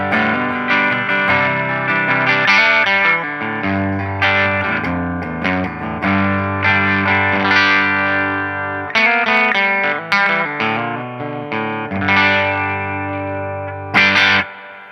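Electric guitar on a semi-clean setting through a Boss Katana amp, with steady chords and picked notes that carry slight grit and ring out continuously, played alone without speech.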